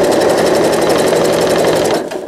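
A sewing machine stitches a fabric pail liner, its needle hammering in a fast, even rhythmic clatter with a motor hum underneath, loud and close, stopping abruptly near the end.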